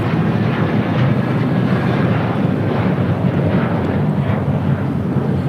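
A Delta airliner takes off from LAX runway 25 right, a loud, steady broadband jet roar that holds evenly throughout with some wind rumble.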